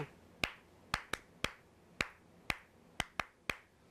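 Young children in a first-standard class clap their hands in separate sharp, single claps, about eight of them in an uneven rhythm, close and clear with no talking.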